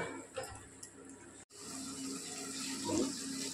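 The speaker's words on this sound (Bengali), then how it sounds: "গরম জল দিলাম, একটু অল্প করে একটু জল দিলাম।" Hot water is poured into a pan of bhetki fish bone chorchori cooking in oil. After a short pause comes a steady, continuous rush of running liquid.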